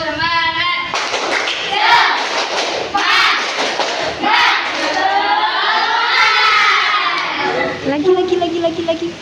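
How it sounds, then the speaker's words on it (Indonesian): A class of schoolchildren performs a rhythmic spirit clap, bursts of hand claps mixed with loud children's chanting and voices, close and lively throughout. "Tepuk semangat."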